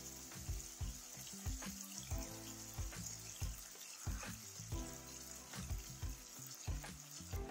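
Pork tenderloins fry in clarified butter in a pan, giving a quiet, steady sizzle with soft, rhythmic spitting and crackling and no talking over it.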